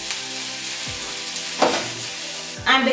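Sweet peppers dropped into a hot stir-fry pan of vegetables, a constant loud sizzle with a few louder bursts and scrapes as pieces hit the oil and get moved about, close up, no talking.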